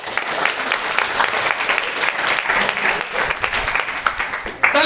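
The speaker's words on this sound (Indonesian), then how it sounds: "Tepuk tangan dulu." A Ramadan religious lecture audience at a school bursts into dense, close applause, clapping strongly for several seconds before it tapers off.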